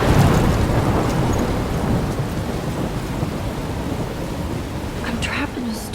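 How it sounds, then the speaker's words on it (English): A thunderstorm rumbles in the Life is Strange Remastered video game, with dense heavy rain and deep thunder filling the scene loudly and steadily, a few higher whooshes near the end. "I'm trapped in a storm?"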